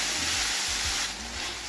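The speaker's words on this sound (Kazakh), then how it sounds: "Тағы да араласып қуырамыз" Chopped chicken pieces seasoned with salt and black pepper sizzle in a hot pan, a steady close hiss broken by a few low scraping stirs, no voices.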